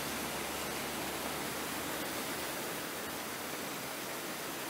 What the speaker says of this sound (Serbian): Toliko velika količina vode izlazi da sigurno 2 metra baca u dalj vodu.